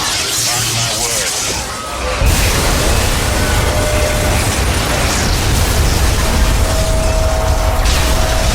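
A rocket blast in the game Bioshock Remastered erupts as a loud, sustained explosive roar with rumbling debris, dense and continuous after a brief quieter lead-in.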